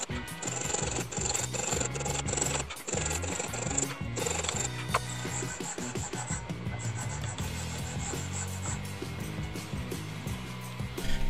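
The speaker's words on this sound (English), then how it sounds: "I remove the material using a rasp." A hand rasp filing material from the jaws of a homemade lab clamp: a continuous close, gritty scraping in repeated strokes, fairly steady and moderately loud.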